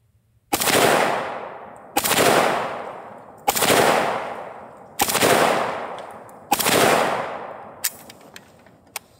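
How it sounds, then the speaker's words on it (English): AR-15 and AK-47 rifles fired into a concrete-filled bucket outdoors, five loud evenly spaced shots, each followed by a long echoing decay, with a few faint clicks at the end. "this is after 20 rounds from each gun"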